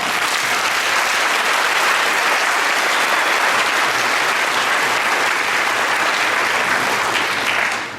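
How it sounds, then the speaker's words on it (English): A large lecture audience bursts into loud, sustained applause for introduced college officials, a dense wash of clapping that holds steady for the whole stretch before tapering off at the end. "Let's give them all a round of applause."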